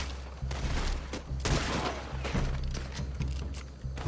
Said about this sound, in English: There's somebody else taking shots.